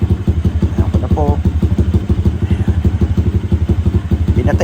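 A Barako II motorcycle engine with a carburetor that needs tuning runs steadily with a loud, rhythmic chugging idle and mechanical clatter, close up, for the whole stretch.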